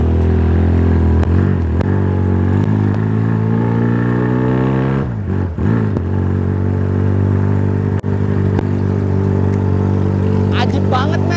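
A Yamaha Scorpio motorcycle engine revs up and down loudly nearby, its pitch climbing, dropping and rising again, with a rider's voice briefly heard over it.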